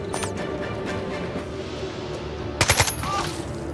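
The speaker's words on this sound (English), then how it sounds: "That's good shooting!" Gunfire in the Jagged Alliance 3 video game: scattered shots and a short burst of rapid reports near the end, heard over a low game ambience with no speech.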